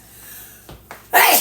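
A single sharp sneeze bursts out after a short snort and breath, loud and close, set off by garlic seasoning.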